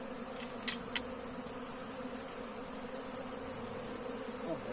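A steady, low buzzing of honeybees fills the air around an open hive during a rescue, close and constant, with a couple of faint brief clicks early on.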